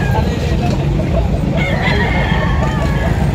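A rooster crows at a busy gamefowl market in Lipa City, Batangas, its long call rising over a steady crowd murmur and nearby clucking, with background voices throughout.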